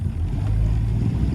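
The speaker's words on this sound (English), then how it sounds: "If it can idle like this, it should be able to plane out." The engine of a 1977 17-foot J-Craft boat idles with a low, steady rumble, close and continuous, with light wind noise over the top.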